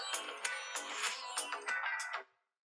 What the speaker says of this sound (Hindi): एक फोन आया है, रुकिएगा